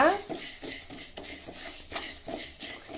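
Spices for sambar powder dry-roasted in a pan over medium heat, with repeated scraping and stirring strokes of a utensil against the metal pan, fairly close and steady, with a faint sizzle underneath and no talking.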